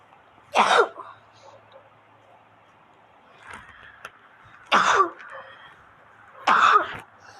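Three harsh coughs from an allergy, spaced a couple of seconds apart, close to the microphone with faint room noise and small clicks between them.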